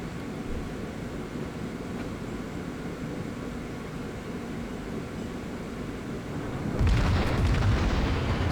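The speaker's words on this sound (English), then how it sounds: "Near Fuso crosses my range, so I take a couple of shots at him" Heavy battleship guns firing at a Fuso during a World of Warships naval battle; after a long low rumbling drone, one loud booming salvo erupts near the end and keeps roaring.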